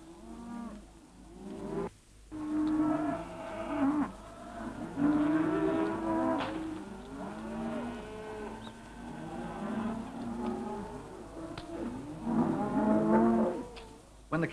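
A milling mob of beef cattle moos repeatedly as station hands draft out unsuitable beasts, overlapping loud and distant lows in a continuous chorus across the yard with no talking.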